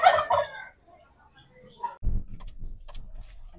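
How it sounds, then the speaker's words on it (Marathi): A turkey on a farm near the Diveagar–Shrivardhan coast gives a loud, bubbling gobble close by at the start, then quieter clucks and rustling noises follow. "आवाज बघा कसा करतोय हा टर्की."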